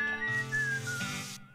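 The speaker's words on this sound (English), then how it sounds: "This lady is still whistling to the beat of the band." A lady in West of Loathing whistles a bright, wavering tune along to the band's beat, the clear melody carried over a sustained musical backing that cuts off abruptly near the end.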